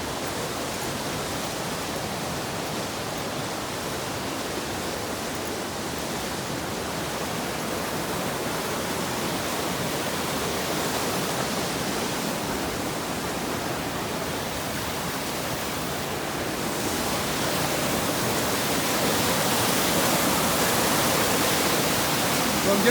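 Bryant Creek's flowing water makes a steady broadband rush on a backcountry trail, constant and fairly close, swelling slightly louder near the end with no talk over it.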